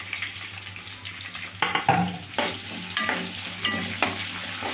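Curry leaves and onion fry in a pan with a soft sizzle, while a few sharper stirring clinks and scrapes come through up close, and no one speaks.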